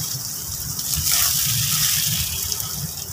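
Water from a garden hose pours steadily onto grafted bougainvillea, a continuous close gushing splash with no pauses.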